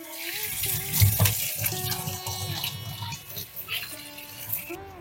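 Radishes are rinsed under running tap water, a steady close splashing stream with brief tonal sounds over it.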